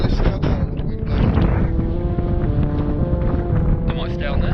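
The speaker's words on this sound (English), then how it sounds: "What's that, a witch? No, that was the wind." Loud, buffeting wind on Pendle Hill, roaring across the microphone in a continuous broadband rush, while people talk over it.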